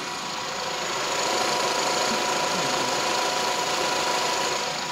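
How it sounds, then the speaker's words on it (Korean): A steady, smooth LPG Renault Samsung SM6 engine idle hums close by from the open engine bay, with a faint even mechanical whir and no voices. "엔진룸 한번 열어봤는데요. 엔진 소리 한번 들어보겠습니다."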